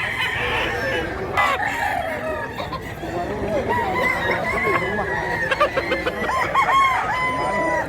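A young stag gamecock, about seven months old, crows repeatedly at a rooster market amid other clucking and crowing fowl, with people talking in the background throughout.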